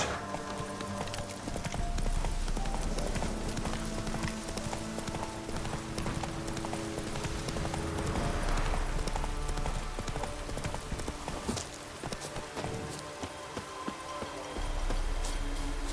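Hoofbeats of the horse Roach galloping in The Witcher 3, a steady rapid clip-clop running the whole stretch under game music and ambience, with a brief voice.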